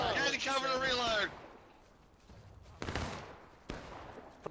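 A volley of musket fire in a Civil War battle video game at Manassas, sharp cracking shots bursting out after a shouted command, with scattered reports following.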